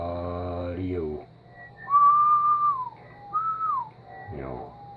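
A person whistles into the microphone of a Yaesu FT-950 ham radio transceiver, two clear sustained whistled notes that slide downward, with a man's speech just before and after.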